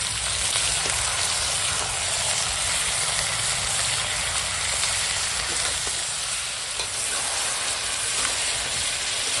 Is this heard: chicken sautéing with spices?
yes